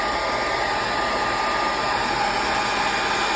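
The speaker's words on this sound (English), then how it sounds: "You can also run the dryer on it and kind of blow some of that around." A hair dryer blows steadily onto wet ink on an art journal page, giving a continuous, loud, even whoosh with a motor whine that holds without a break from start to finish.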